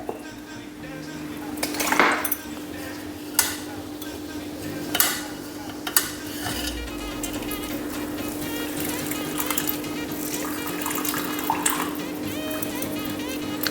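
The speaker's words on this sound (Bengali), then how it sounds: "একটু ঠান্ডা জল দিয়ে আমি ধুয়ে নিচ্ছি" Freshly strained chhena for jaggery rasgulla is rinsed with cold water, running water splashing steadily with several sharp metal clanks of pots and utensils near the start, no voices.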